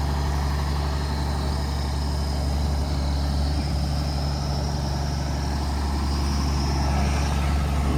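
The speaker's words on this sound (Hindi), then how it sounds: "अभी देखिए रोड बन रही है, रोलर चल रहा है, फाइनल पैचअप दे रहे हैं इस सेक्शन के लिए" A road roller works on a mountain road section being built by the BRO near Munsiyari, Uttarakhand. Its engine drones in a loud, steady, low idle that runs without a break.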